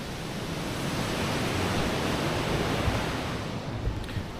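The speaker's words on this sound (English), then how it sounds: "You can hear the water" Water rushing through Lydford Gorge, a steep, overgrown wooded valley in West Devon, giving a steady, broad, hissing roar like a distant river or falls that holds level throughout, with no voices.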